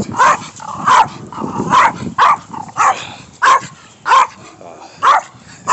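A small dog barks repeatedly in sharp, high yaps, close and loud, with short whimpering sounds between barks.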